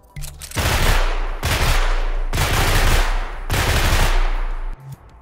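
Realistic rifle fire from a first-person shooter built in Dreams on PS4 comes as four loud, close bursts of rapid automatic gunfire. Each burst lasts about a second and has a deep, booming low end, with short gaps between.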